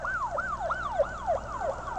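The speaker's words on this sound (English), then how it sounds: "That is a fire department ambulance going by." A fire department ambulance passes on a quiet city street, its siren wailing in a steady repeating rise-and-fall sweep, loud and close throughout with no voices.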